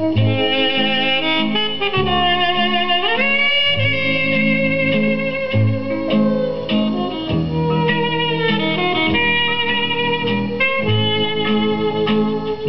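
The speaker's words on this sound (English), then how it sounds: "Susan Goldberg's Seeburg Model G. Sounds fantastic" A Seeburg Model G jukebox plays a song, full band music filling the room loudly and steadily, slightly muffled in the upper range, with no talking over it.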